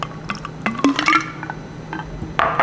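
Apple cider bourbon cocktail poured from a shaker into a glass, close and fairly quiet, with irregular splashes, drips and the clink of ice against the glass.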